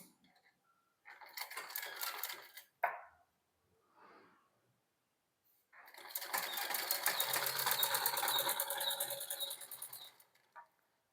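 An electric sewing machine stitches three layers of cloth together for a blouse collar, with two separate bursts of rapid, steady whirring and needle chatter, the second longer, broken by a pause and small handling clicks.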